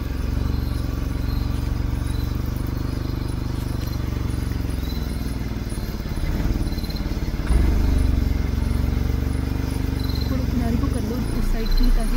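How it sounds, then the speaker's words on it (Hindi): A safari vehicle drives up in Jim Corbett National Park, its engine droning low and steady throughout, with insects chirping in the background and a voice speaking nearby. "गाड़ी आ गई।"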